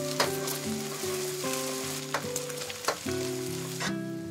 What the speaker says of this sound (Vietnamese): Dầu nóng thì các bạn cho trứng vào chiên trên lửa vừa.